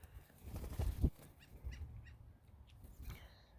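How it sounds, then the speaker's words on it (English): Wild birds near Mt Rainier call outdoors in a few harsh, honking squawks clustered early, then fainter scattered calls follow against a breezy background. "These are wild birds at Mt Ranier"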